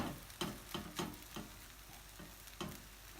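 Breakfast food frying in a pan, with a steady soft sizzle broken by several sharp, close clicks and scrapes of a utensil spaced irregularly.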